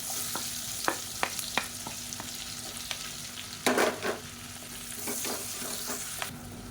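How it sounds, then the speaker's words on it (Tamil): Long-sliced onion fries in a kadai for egg biryani, giving a steady sizzle with sharp, spaced scrapes and clicks of a stirring spoon, one louder clatter midway, and no talk. "மீடியம் சைஸாக ஒரு பெரிய வெங்காயம் நீளமாக நறுக்குனால சேர்த்துக்கலாம்."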